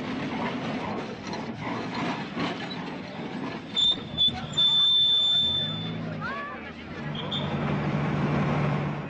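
An old, decrepit tramway in Paraguay rattles along, with clanking wheels and metallic squeals under a narrator's voice, ending in a steady rumble.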